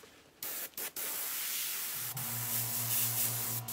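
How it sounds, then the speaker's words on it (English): An airbrush gun sprays paint in a steady, faint hiss that starts after a couple of short bursts and then runs continuously, with a low hum underneath. "I usually have like this habit of actually kind of spraying it on my arm, my hand for a little bit"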